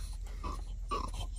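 A dog indoors makes short snorting, huffing sounds in a few close bursts with brief gaps between them, fairly faint and without talk.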